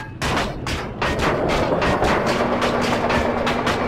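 Gunfire in the video game Battlefield Iraq, a series of heavy, evenly spaced shots about every half second, loud and booming over a constant rumbling background.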